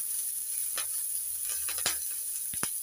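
Green chillies sizzle in hot oil left in a wok after frying fish, a quiet steady hiss broken by a few sharp crackles and pops.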